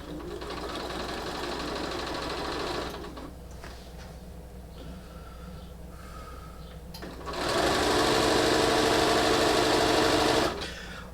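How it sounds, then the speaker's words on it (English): A sewing machine stitching bias binding onto the edge of a quilt, running in a loud steady whir, pausing briefly at a lower hum, then resuming at full speed before stopping. "sew right on and continue on until I get to the next corner"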